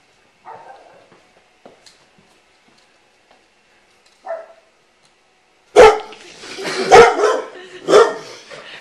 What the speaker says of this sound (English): There's a scary dog over there.